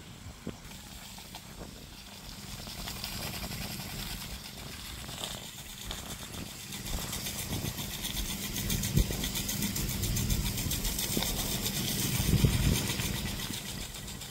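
A sprinkler pump engine on a farm runs steadily at mid pitch, below full throttle, mixed with hissing spray and rushing water, growing slightly louder toward the end.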